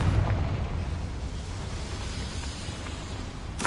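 A Confringo fire spell bursts in Hogwarts Legacy, a loud explosive rumble at the start that fades into a sustained, roaring wash of noise.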